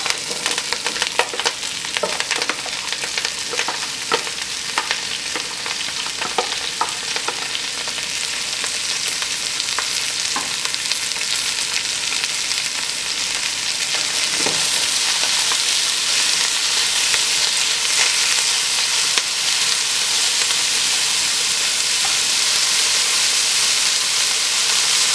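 Ingredients fry in olive oil in a heated pan, a continuous bright sizzle with a few clinks and stirring scrapes early on, the hiss swelling and steadying later, with no voices.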